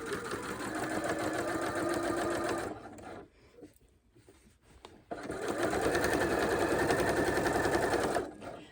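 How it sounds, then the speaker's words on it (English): A sewing machine top stitches around a quilt, running in a loud steady whir for about three seconds, pausing briefly, then running again at the same pace. "You'll see I'm just top stitching it down, okay?"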